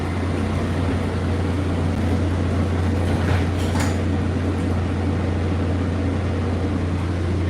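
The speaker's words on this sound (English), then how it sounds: "This is the Red Line Train to Shady Grove." A Red Line metro train runs toward Shady Grove, giving a steady low rumble with constant broadband rolling noise from inside the car and no sharp events.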